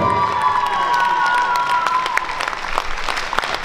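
A crowd in a hall applauds adult finalists at the Minsk Open Dance Festival 2019, a ballroom dance competition. The applause is loud, continuous and sustained, with some cheering mixed in and music ringing underneath.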